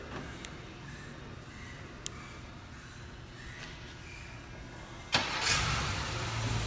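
A 2015 Acura TLX engine starts remotely from the key fob, a sudden burst near the end settling into a steady idle after a few seconds of quiet outdoor background with faint clicks.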